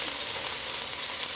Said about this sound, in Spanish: Aquí ya la carne está dorada por ambos lados.